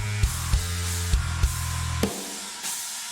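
Electric bass from a metal mix plays loud with punchy drums, several sharp kick and snare hits marking a steady rhythm before the low end drops out near the end.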